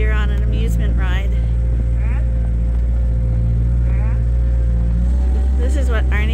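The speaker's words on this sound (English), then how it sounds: "we're gonna go on a ride with the skid steer to feed the bottle babies" Riding aboard a skid steer loader on a sheep farm, with a loud, steady engine drone and low rumble running throughout, and voices talking over the machine.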